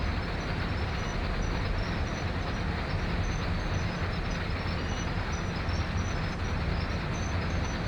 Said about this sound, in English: I hear the brakes now applying themselves.